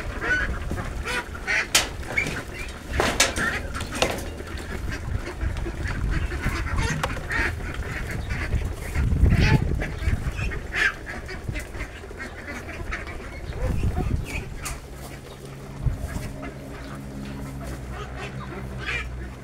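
Six-week-old ducklings quack in a busy, overlapping chorus as they jostle and compete over feed, close by and continuous, with some muffled low thumps and scuffling beneath.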